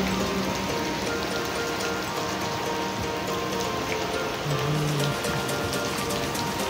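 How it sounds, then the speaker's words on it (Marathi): Steady rain falls over a rural home in Palghar, a dense, continuous patter on surfaces that stays loud and even throughout with no voices. "पाऊस थांबतच नाही"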